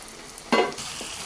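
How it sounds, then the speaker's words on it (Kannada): Chopped capsicum and green gram sizzle in a pan for a stir-fried palya, with a soft steady hiss and one brief louder scrape or stir burst midway, close and short. "ಈಗ ಇದು 2 ನಿಮಿಷ ಫ್ರೈ ಆಗಿದೆ"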